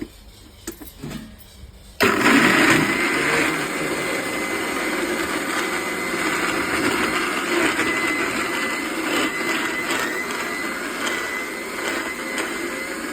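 An electric mixer grinder blends an apple milkshake of milk and apple, starting abruptly after a quiet moment and then running loud and steady, a close whirring drone with slight fluctuations that continues to the end.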